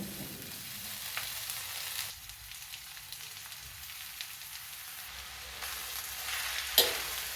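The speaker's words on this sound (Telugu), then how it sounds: "ఈ అరటి పువ్వు ముక్కల్ని కొద్దిగా పచ్చివాసన పోయే వరకు వేయించుకుందాం" Banana flower pieces, squeezed of water, frying in a hot tempering in a pan, giving a steady soft sizzle with occasional stirring scrapes and no voices.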